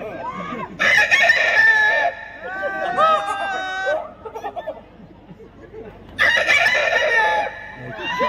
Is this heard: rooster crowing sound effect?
yes